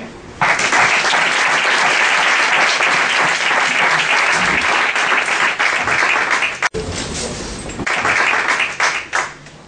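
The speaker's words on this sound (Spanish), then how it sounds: "que les podamos dar un fuerte aplauso" Strong, sustained audience applause at a talk on psychological preparation for competitions, dense clapping filling the room, briefly dipping and then resuming before tapering off.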